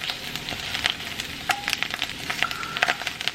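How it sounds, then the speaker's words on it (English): Butter melting in a pan for morel mushrooms hisses with a steady close sizzle and frying crackle. Small pops and faint tones sound over it, with no voices. "I've added just a little bit of butter to get it started. Get that melted good."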